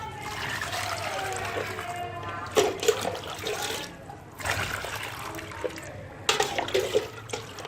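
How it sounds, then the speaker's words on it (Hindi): Water is poured onto the soil of a freshly repotted nursery plant, giving close gushing and trickling bursts that pause and resume several times. "तो अब इसको पानी दे देते हैं"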